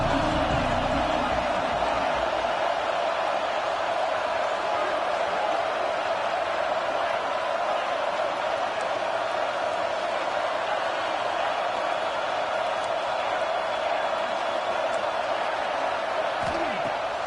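Stadium crowd noise from the College Football 26 video game, a steady, dense roar of many voices that holds at an even level throughout, with no commentary spoken over it.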